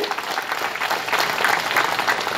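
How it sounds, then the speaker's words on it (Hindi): A crowd at a public meeting on a school ground in Dadra and Nagar Haveli claps loudly and steadily, a dense close wash of applause that swells slightly toward the middle and carries on unbroken. "आइए जोर से ताली बजाइए"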